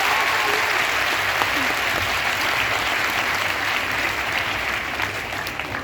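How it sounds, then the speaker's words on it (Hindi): A large crowd at an International Youth Day event in Gurugram claps loudly and continuously, a thick roar of applause that stays strong before easing slightly near the end. "एक बार जोरदार ताली।"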